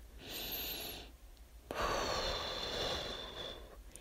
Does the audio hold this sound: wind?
no